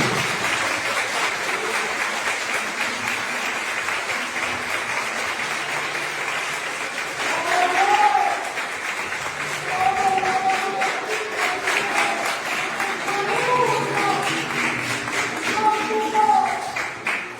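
A church congregation claps for Jesus during an evangelical service, a steady wash of applause that swells and continues throughout, with voices calling out over it.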